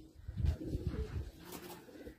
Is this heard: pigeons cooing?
yes